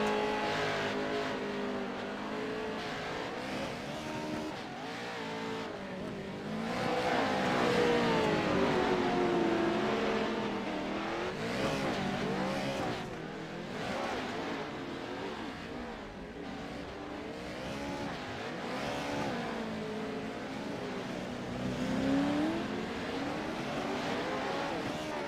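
Race cars lapping during a qualifying session, engines droning and revving continuously as several cars pass at middle distance, with the pitch rising and falling throughout.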